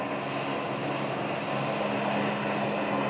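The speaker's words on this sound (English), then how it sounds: "that's another one of those small Cessna" A small Cessna plane climbs out after takeoff from runway 21 at Scottsdale, giving a steady, even propeller-engine drone with a constant hum and no talking.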